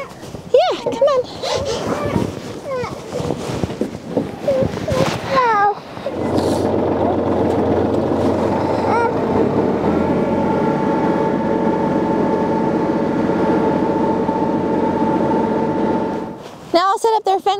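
A farm tractor engine idles and runs steadily close by after some talk and movement, a continuous low rumble with a tonal hum lasting over ten seconds before voices return at the end.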